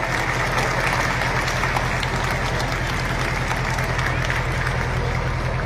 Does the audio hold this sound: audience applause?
yes